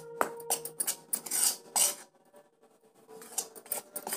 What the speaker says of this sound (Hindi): अब इसको अच्छे से मिक्स कर लीजिए